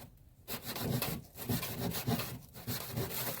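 PVC pipe being sawn by hand while building a snake enclosure, rhythmic back-and-forth rasping strokes with brief pauses between them, close and moderately quiet.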